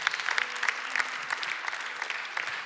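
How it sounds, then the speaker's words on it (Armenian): A church congregation claps together, a dense, steady round of applause from many hands at moderate distance, holding evenly for a few seconds. "եկեք ծափահարենք իրանց"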